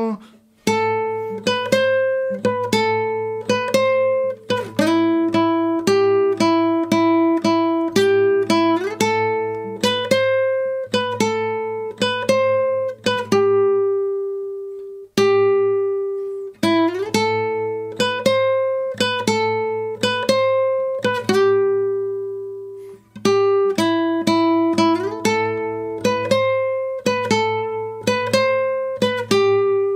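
A clean electric guitar picks the A section melody from The Last of Us Part 2, steady plucked single notes over a low sustained tone, loud and close with brief pauses between phrases.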